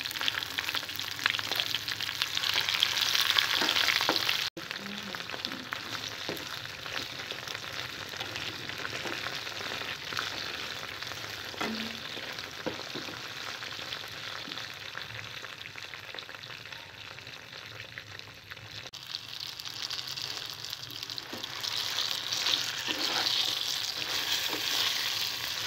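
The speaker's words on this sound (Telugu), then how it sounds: "ఉల్లిపాయ, ఎండుమిర్చి, ధనియాలు వేసి ఫ్రై చేసుకోవాలి." Onion, dried red chilies and coriander seeds sizzle in a pan for a tomato and gongura chutney, with a continuous crackling fry and occasional stirring scrapes, fairly soft and steady throughout.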